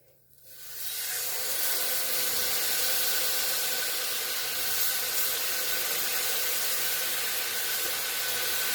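Honey-marinated sirloin steak hits a hot pan and breaks into a loud, broad sizzle that holds steady and close for several seconds.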